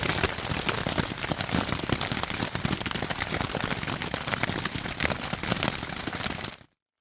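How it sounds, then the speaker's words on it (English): Hail pelts a tent on a forested ridge trail in a loud, dense, continuous patter, heard close from inside with no voices, until it cuts off abruptly at the end. "I just crawled in here and it is hailing"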